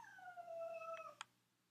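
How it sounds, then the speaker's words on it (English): A cat meows once in a long, drawn-out, falling wail, followed by a brief sharp chirp, fairly quiet against a low steady hum. "that was my cat."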